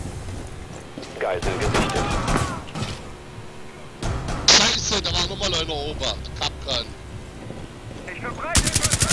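Gunfire in the video game Rainbow Six Siege, bursts and single shots scattered across the clip under German voices talking over the action.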